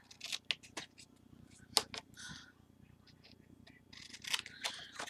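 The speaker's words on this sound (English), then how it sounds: "now I'm cutting, so I just have the 1 flap left, and I'm cutting them all at an angle there" Paper card pocket being snipped with scissors in short, close cutting strokes, quick crisp bursts separated by brief pauses.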